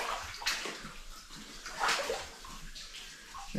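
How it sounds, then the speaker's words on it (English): Water drips and trickles through rock in an underground mine in New Zealand, a steady wet splashing and sloshing that swells and ebbs close by, with no voices. "All this water that you can hear dripping around me, it's percolating through all the rocks."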